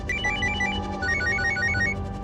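A telephone rings with a rapid repeating electronic trill, several bursts in a row, for an incoming call from the doctor, heard close and alone.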